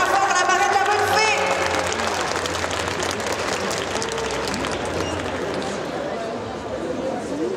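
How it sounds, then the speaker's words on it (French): A crowd at a cosplay contest during a Japan pop culture show in Mons applauds loudly and continuously, with some cheering and chatter mixed into the sustained clapping. "On applaudit bien fort la barrette de la bonne fée."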